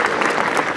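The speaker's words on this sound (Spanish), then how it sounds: "Y creo que les brindemos un aplauso a sus profesores." A brief burst of dense clapping from an audience honoring teachers at a school's first-day ceremony, loud and close, lasting under a second.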